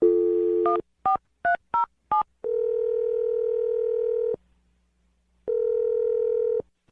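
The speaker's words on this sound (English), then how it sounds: "We're gonna dial her phone number right now and try and get your second date update" A landline telephone gives a short dial tone, then five quick touch-tone keypad beeps, followed by two long steady ringback tones separated by a pause, loud and clear with no talk.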